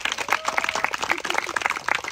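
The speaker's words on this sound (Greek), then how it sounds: "Ένα χειροκρότημα για τον Ιωσήφ" Audience clapping at a primary school sports day honouring a student athlete named Iosif, brisk overlapping claps from a fairly close crowd, with faint murmuring underneath.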